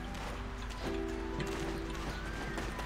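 A horse in the video game Black Desert clip-clops along with quick, even hoof beats over a faint tonal game backdrop, no voices present.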